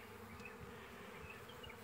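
Bees swarming around a wine barrel, their steady, dense buzzing droning close and continuous throughout, with an occasional individual insect passing nearer.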